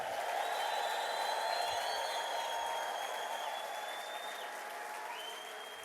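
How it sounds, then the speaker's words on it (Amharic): A church congregation applauds and ululates in praise of Jesus, sustained clapping with high, wavering trilled cries over it, fairly loud and spread through the room, slowly fading. "ለጌታ ኢየሱስ እልልታ፣ ጭብጨባ፣ ጩኸት"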